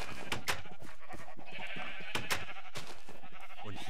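Minecraft sheep bleating repeatedly over a busy, clattering background, several wavering cries overlapping at moderate volume with no talking.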